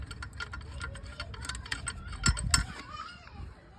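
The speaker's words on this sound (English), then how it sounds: "Now that getting backed off, and that just loosens that rod on the tensioner there." Rapid metallic ticking and clicking of a ratchet or spanner backing off the alternator tensioner rod on a Nissan GQ Patrol, close up, with a few louder knocks near the middle.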